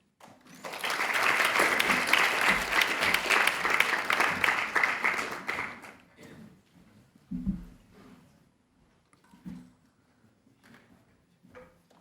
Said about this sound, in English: So please give a round of applause to Sebastian.